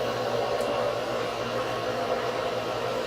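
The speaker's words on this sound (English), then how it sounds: "I'm going to grab my Smith torch" Steady, even hiss of a Smith torch flame during a body weld on a glass piece, a constant close broadband rush with no breaks for the whole span.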